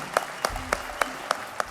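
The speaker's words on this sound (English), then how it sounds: "would you please welcome onto our stage Moni and Manjit Minhas." A studio audience claps as guests walk onto a talk-show stage, with sparse, evenly spaced individual claps sounding at a moderate distance and no talk over them.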